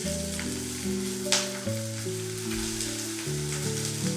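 Onion frying in a pan for a festive Gudi Padwa thali, after a cinnamon piece, two black peppercorns and a clove went in. A steady close sizzle carries on throughout, with sustained tonal hum layered underneath and one brief clatter.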